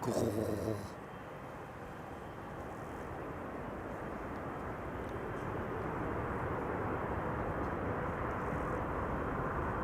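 Airliner landing at Amsterdam Schiphol with thrust reversers deployed, a broad steady roar that swells slightly and holds loud and near for the whole stretch after a brief opening burst.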